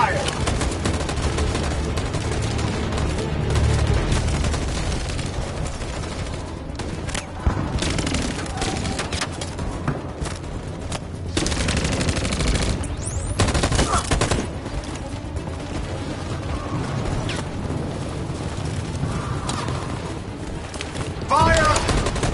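Soldiers' gunfire rattles in the Detroit: Become Human video game, with dense automatic bursts and booming shots that stay loud and close throughout. Shouted voices come in now and then.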